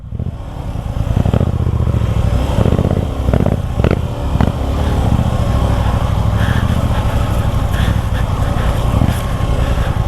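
A Suzuki V-Strom 250 SX motorcycle engine revs loud and close while riding off-road, throttle surging and dipping in uneven bursts with some clattering over a constant drone.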